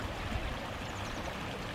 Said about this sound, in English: We have the irrigation water that runs through